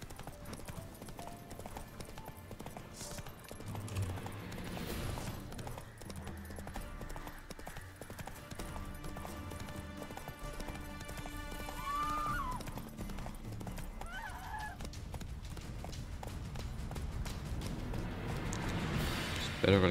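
Horse hooves gallop in a steady, rapid clip-clop rhythm throughout The Witcher 3 video game, loud and continuous under game music and effects, with a brief whinny near the middle.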